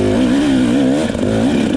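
A dirt bike engine lugging at low revs in second gear on a hill climb, a loud, steady, deep thrumming drone with a slight wavering pulse, close up and continuous, no talking.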